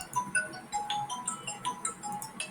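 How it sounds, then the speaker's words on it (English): A phone ringtone plays a quick, bright melody of high tones that repeat several times at moderate loudness, with no talk. "Okay, I need to pick up a phone."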